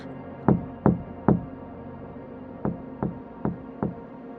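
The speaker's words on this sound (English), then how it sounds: "and then came the knock" Knocking on a door in a quiet room: a group of three sharp raps, a pause, then four more evenly spaced knocks, close and distinct.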